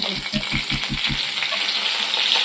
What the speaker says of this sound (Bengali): এবার এটাকে কড়াইয়ের তেলে দিয়ে ভালো করে কিছুক্ষণ নাড়াবে